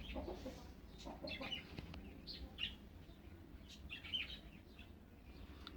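A hen clucks in short, faint bursts among other chirping fowl, with a low steady hum underneath and no talk.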